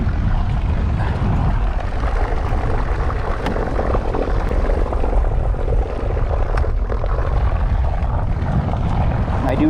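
Strong gusty wind buffets a kayak out on the water, a loud, constant low roar that rumbles and booms steadily throughout.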